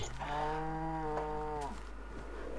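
A single drawn-out Minecraft cow moo with a synthetic, game-like tone, clear and close, lasting under two seconds before fading into quiet background noise.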